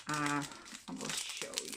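Crinkly plastic packaging around a handmade craft box rustles and crackles close up as it is handled, under a person speaking.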